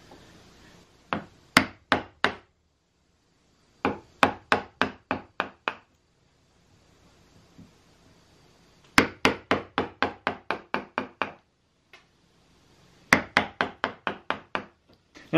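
A chisel is hammered into a cherry wood workpiece in bursts of rapid sharp knocks, four to eight strikes per burst, separated by quiet pauses, close and fairly loud with no talking.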